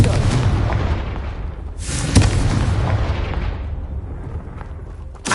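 Booming fiery explosions from the Confringo spell in Hogwarts Legacy, with a heavy blast at the start, a second loud burst about two seconds in, and rumbling decay between them.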